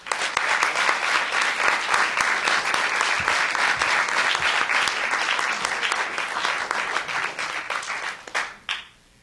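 A lecture audience at Columbia University applauds to welcome the speaker, a full, steady wash of many hands clapping that holds strong for several seconds, then thins and fades out at the end.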